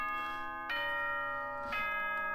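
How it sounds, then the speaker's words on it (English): A bright doorbell-style ding-dong chime from the video game Danganronpa: Trigger Happy Havoc, two sustained bell tones ringing in sequence, clear and close with a lingering harmonic ring and no talk. "Ding dong bing bong."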